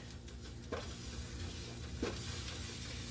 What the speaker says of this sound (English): So you want to stir this around, get that flour